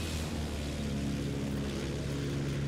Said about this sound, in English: Enemy plane up.